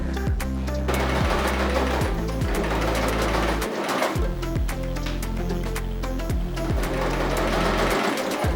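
A sewing machine stitches an invisible zip in a steady, rapid mechanical chatter, running continuously and fairly loud with brief pauses where the speed shifts.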